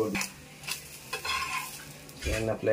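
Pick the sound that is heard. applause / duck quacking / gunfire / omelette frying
omelette frying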